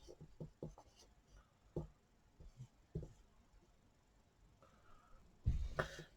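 A pen scratches across paper while sketching a graph, with short strokes and taps in an uneven rhythm, quiet and close with no talking.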